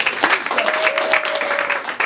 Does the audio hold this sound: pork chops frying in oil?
no